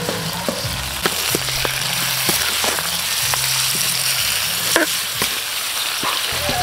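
Ginger, garlic and onion sautéing in a pan with bay leaf, a steady close sizzle and frying crackle throughout, with a few light stirring clinks and scrapes and no talk.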